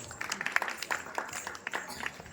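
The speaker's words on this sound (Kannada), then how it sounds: "ಜೋರಾದ ಚಪ್ಪಾಳೆ." Audience applause at a folk festival held by a Navratri committee, a loose, scattered patter of clapping that rises and falls over about two seconds, with a voice speaking over it.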